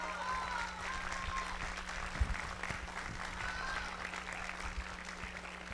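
Fairly faint applause from an audience at a political event in defense of sovereignty, a steady wash of clapping with a low hum underneath and a few louder knocks.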